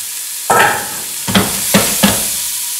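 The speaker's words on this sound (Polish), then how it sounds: "przesmażymy to ułamek sekundy" Chopped soup vegetables hit hot Kujawski rapeseed oil in a pot and crackle in four short, loud sizzling bursts, each rising sharply and then dying away, with quiet gaps between them.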